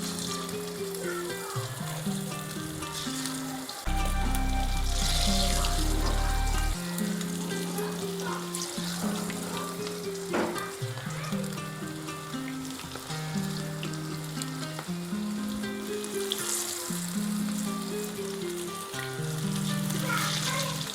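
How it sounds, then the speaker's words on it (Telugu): Chicken wings coated in chicken masala, cornflour and egg white fry in hot oil with a steady, close sizzle and bubbling, broken by a heavier surge of frying around the middle as more pieces go in, with no talking. "ఇలాగ ఫ్రై చేసేసుకోవటమేనండి"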